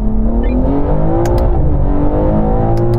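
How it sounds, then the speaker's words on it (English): A car revs and accelerates hard from about 30 mph in a rolling race to the half mile against an electric Lucid, engine note climbing steadily and loud, with brief high whines cutting through. "Okay, now we're going to have a rolling race from 30 miles an hour."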